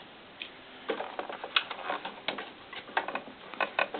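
Sewing machine stitching fabric for doll underwear, a light, quick run of mechanical ticks and taps in short uneven bursts, close by and fairly quiet.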